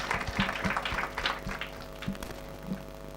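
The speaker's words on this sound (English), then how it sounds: "A round of applause for Becky, a round of applause." An audience at a children's climate summit applauds as a speaker named Becky is welcomed, with scattered, uneven claps, some near and sharp, rising and falling over a steady room hum.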